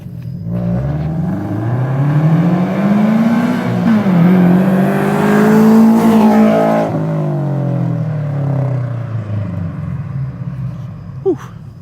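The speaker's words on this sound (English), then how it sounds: "That's what my car sounds like." A car with an aftermarket exhaust revs and accelerates up close, its engine note climbing and falling through several loud sweeps before easing off into a quieter idle.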